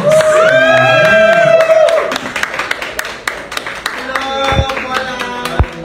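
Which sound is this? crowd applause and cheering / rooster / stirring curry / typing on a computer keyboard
crowd applause and cheering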